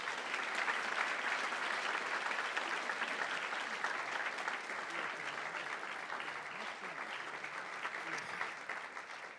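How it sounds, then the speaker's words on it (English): Audience applause for panelists at an anniversary celebration event, steady and full clapping from a large crowd that continues evenly throughout and slowly thins toward the end. "Give them a round of applause again."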